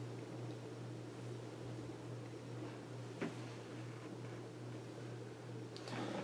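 A Hunter Original ceiling fan in brown and brass runs on low speed, making a steady, quiet motor hum under faint air noise, with a soft click partway through.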